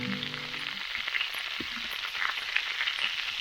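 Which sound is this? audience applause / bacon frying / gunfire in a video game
bacon frying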